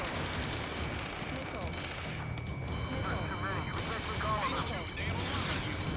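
Dense battlefield gunfire in Ace Combat 7, sustained rattling shots and bursts layered under shouting voices and background game music, loud and continuous throughout.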